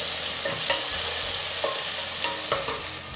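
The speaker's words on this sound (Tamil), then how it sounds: "இந்த தக்காளியும் ஒரு 2 நிமிஷம் நீங்கள் வதக்கி விடணும்" Onions and tomatoes sautéing in a pan for sambar, a steady close sizzle with a few soft spoon-scraping stirs across the whole stretch.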